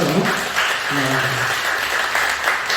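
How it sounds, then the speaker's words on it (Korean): A church congregation at a Sunday worship service claps together for a deacon, a short dense burst of applause in a large room, with a brief voice sounding over it near the start. "박수 한번 해주시죠"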